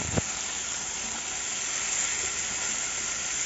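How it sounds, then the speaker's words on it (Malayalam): Chicken pieces frying in a pan over a medium flame for Chicken Nirvana, a steady, close sizzle that holds evenly throughout after a brief knock at the start. "ഇത് നമ്മുടെ ചിക്കൻ പീസ് 2 സൈഡും നമുക്കൊന്ന് ഫ്രൈ ചെയ്തെടുക്കണം"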